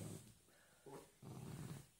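A small dog growls in low, rumbling bursts, close and quiet, with a short higher whimpering note between the growls.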